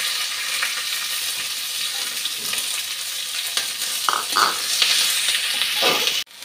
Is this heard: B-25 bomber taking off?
no